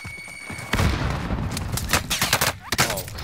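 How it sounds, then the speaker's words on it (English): Rapid bursts of automatic gunfire with booming impacts in a Call of Duty Warzone match, loud and close, firing in uneven volleys with sharp shots toward the end, a faint voice briefly underneath. "now the house is shooting me"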